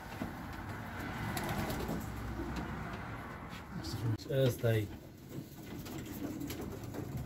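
Ringed pigeons coo in a large bird breeding loft, a short run of low, rounded coos near the end standing out over faint background noise, with someone speaking briefly.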